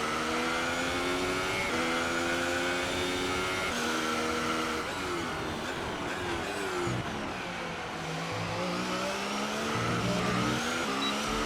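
Formula 1 car engine in the F1 2018 video game at the Bahrain Grand Prix, a loud sustained whine shifting pitch up and down through gear changes, with tire noise and no talk.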